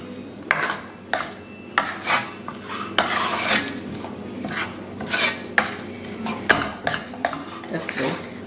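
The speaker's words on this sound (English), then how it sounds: "mix it, stir it so that it's mixed thoroughly" A spoon stirs a thick cashew barfi mixture in a metal pan, giving repeated close scrapes and clinks in an uneven rhythm.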